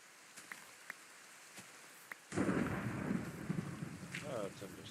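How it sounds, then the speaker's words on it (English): A thunderstorm with rain in the video game Minecraft: faint scattered ticks at first, then a sudden surge of steady rushing rain with rumbling thunder that continues to the end. "Thunderstorm."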